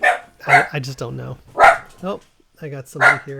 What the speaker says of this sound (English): And that's my dog barking.